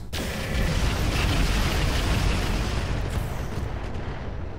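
Heavy mech weapons from the Roguetech BattleTech game fire in a dense, continuous barrage of booming blasts and rumbling explosions that stays loud for several seconds before easing slightly.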